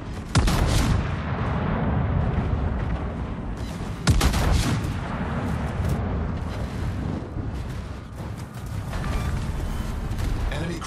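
Heavy naval guns of the battleship Sun Yat-Sen fire at an enemy warship in World of Warships, with loud booming salvos at the start and again near four seconds over a continuous rumbling battle din.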